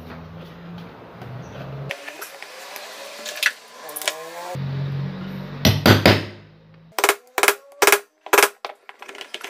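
Chisel working metal while making a tool for removing a bearing from a Britânia/Philco appliance, with scraping passages followed by several loud, sharp, close metallic strikes near the end.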